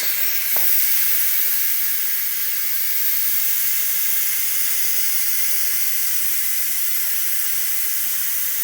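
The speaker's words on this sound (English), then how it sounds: "As you can hear, the steam is actually coming out of the pressure cooker right now." Steam hisses hard out of a pressure cooker's release nozzle, a loud, close, continuous jet that holds steady and never breaks.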